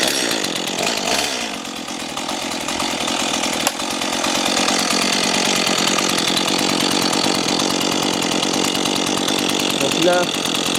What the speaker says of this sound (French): Et vous prenez votre tronçonneuse dans la main.